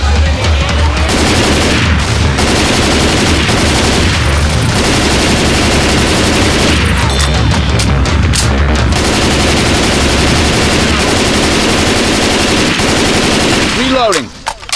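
Guns fire in Left 4 Dead 2, dense, loud bursts of rapid automatic gunfire that run almost without a break, with short pauses and a few heavier booms.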